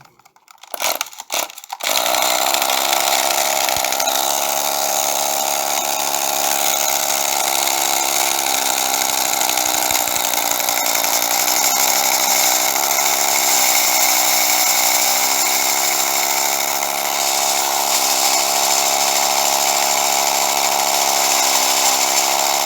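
A small motor on a toy aircraft, newly fitted with a replacement gear, starts with a few quick bursts and then runs at a steady, loud, buzzing whine with a dense harmonic drone for about twenty seconds. No one speaks over it.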